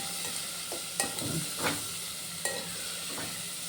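Ridge gourd pieces frying in a pan give a steady soft sizzle, with the occasional scrape and clack of a stirring spoon on top, close and fairly quiet.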